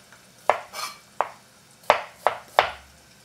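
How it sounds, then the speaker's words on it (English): Knife chopping cucumber on a board in a kitchen, about five crisp, close, separate cuts at an uneven pace, with a quiet clatter between strokes and no talk. "Let it cook, fire slower, and we can cut our second cucumber."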